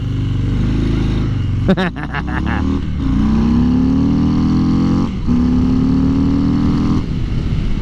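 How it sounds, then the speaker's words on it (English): A big, torquey Harley-Davidson motorcycle accelerating hard, loud and close: the engine drone rises steadily in pitch, dips briefly at a gear change, then climbs again, with wind noise and a rider's voice mixed in. "It's hard to not have a good time when you're on a big torquey motorcycle and the back tire goes whee"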